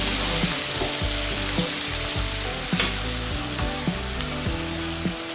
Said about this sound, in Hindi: प्याज डालकर इसे ब्राउन होने तक हम पकाएंगे।